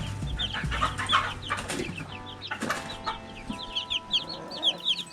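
Young barred rock chickens clucking and peeping in a farm brooder, a busy overlapping chorus of short chirps with a few wing flutters, close and steady throughout.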